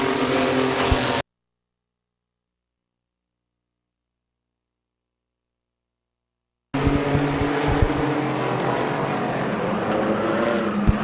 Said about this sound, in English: Starter Terry Coletti, green flag is in the air, and we're underway with feature racing.